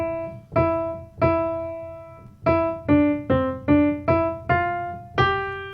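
Piano notes struck one at a time in a steady pattern, each ringing and decaying, about ten clear notes with a pause partway through.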